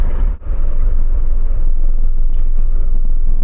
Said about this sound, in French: Maintenant, on va pouvoir mettre gaz.